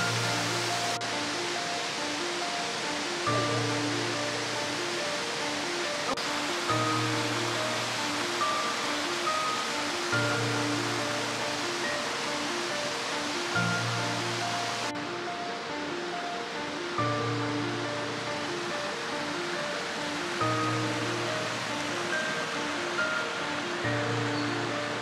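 A river rushes through the gorge of the Aki Valley in Kochi, a continuous broadband roar of flowing water, steady and full throughout with no voices.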